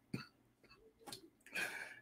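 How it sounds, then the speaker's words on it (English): A person coughs and clears their throat, a sharp cough followed by a few softer throaty bursts and a rougher cough, close and fairly faint. "Y'all got me coughing now, man."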